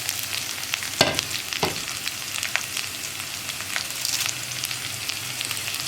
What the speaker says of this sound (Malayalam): ഈ കറിവേപ്പിലയുടെയും സവോളയുടെയും ഒക്കെ കളർ മാറി വരുന്നവരെ, കറിവേപ്പിലയൊക്കെ നന്നായിട്ട് കുക്കായി വരുന്നത് വരെ ഇളക്കി കൊടുക്കുക